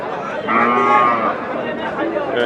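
Sahiwal bull and cattle at a cow market in Nilphamari, one long drawn-out moo near the middle over a steady background of crowd chatter and people talking.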